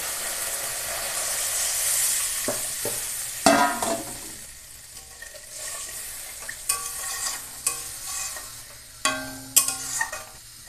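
Water poured into sizzling mustard and green chili masala whose oil has separated, for a hilsa fish dish: a loud hiss and steamy sizzle with stirring, then sharp bursts and crackles as the pan reacts, heard alone with no voices.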